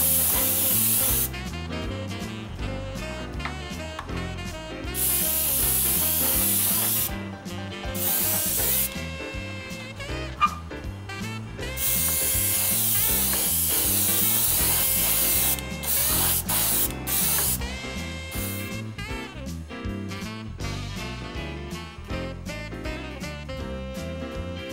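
Flat clear coat is airbrushed over a weathered scale model Sherman tank. A close, continuous spray hiss runs in long bursts, broken by short pauses and faint mechanical clicks.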